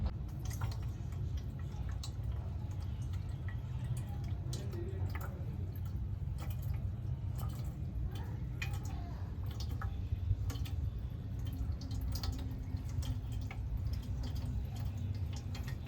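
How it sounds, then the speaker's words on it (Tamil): Water pouring and trickling into a rusty petrol tank already filled with vinegar, a steady low gurgling wash with scattered drips and splashes throughout, no talking. "இதை அடுத்து தண்ணி தான் நம்ம ஃபுல்லாக ஃபில் பண்ண போகிறோம்."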